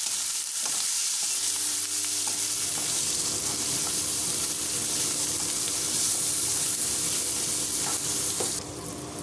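Chopped tomatoes with a spoonful of salt are stirred in a hot pan for a meal maker curry, a constant close sizzle under scraping strokes, with a brief water-like hiss near the end.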